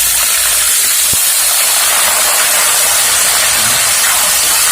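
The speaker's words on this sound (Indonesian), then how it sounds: "Ini digoreng supaya matang dulu." Ingredients for sambal frying in hot oil, a loud, steady, close sizzling hiss that runs unbroken throughout.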